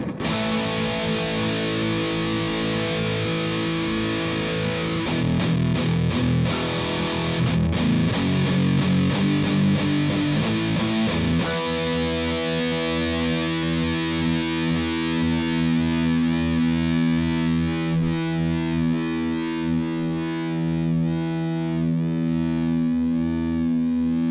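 A heavily distorted electric guitar through a Marshall Plexi-style amp pedal rings out loud and sustained, a gritty chord wash that settles into a steady droning tone with buzzing overtones.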